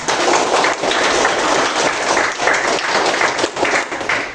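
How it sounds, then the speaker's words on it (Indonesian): A classroom of students claps together after the teacher asks for applause, a dense, steady patter of many hands filling the room at close range for several seconds. "Tepuk tangan dulu untuk kita semuanya."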